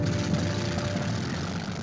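Messerschmitt fighter planes in flight on archival wartime newsreel footage of the Soviet-Finnish war, a loud, steady propeller-engine drone that fills the whole stretch without pause.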